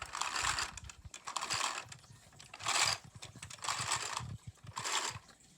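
A Lego-built vacuum engine with valves and pistons runs close by, giving a rhythmic mechanical clatter of bursts roughly every second, each a loud hissing puff with ticking plastic parts in between, and no talking.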